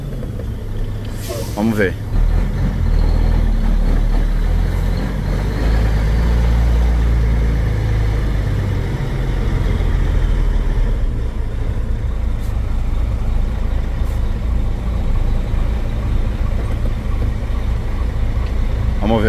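A car engine idles low and steady on a street while it waits to pass, a constant rumble under a voice that speaks briefly over it.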